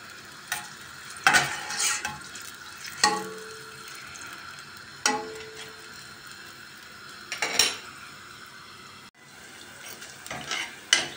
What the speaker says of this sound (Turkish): Soğanlarım güzelce kavruldu.